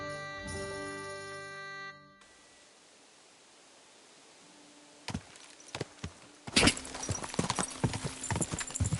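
Horse hooves clip-clop in Kingdom Come Deliverance 2, a run of irregular hoofbeats on hard ground that grows louder and busier toward the end, following a short musical passage and a quiet gap.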